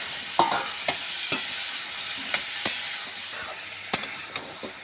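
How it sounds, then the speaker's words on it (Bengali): Drumsticks and potatoes stir-fried with spices in a pan: a soft continuous sizzle broken by sharp scrapes and clinks of the spatula against the pan at irregular intervals, close and without talk. "আমি এটা ভালো করে কষে নিচ্ছি ভালো করে কষলে খুব ভালো হয়"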